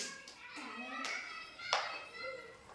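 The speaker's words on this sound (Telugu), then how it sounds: "క్లాప్స్ కొట్టండి అందరూ" Children in a classroom clap their hands in short bursts of applause, with a voice and bright sharp claps rising over a busy room.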